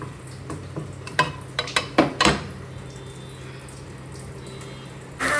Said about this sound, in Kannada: ಈಗ ನೋಡಿ, ಬೆಂಡೆಕಾಯಿ ಹಾಕೊಂಡು ಫ್ರೈ ಮಾಡ್ಕೊತಾ ಇದ್ದೀನಿ.